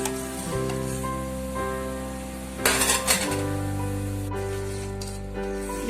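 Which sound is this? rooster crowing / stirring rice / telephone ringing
stirring rice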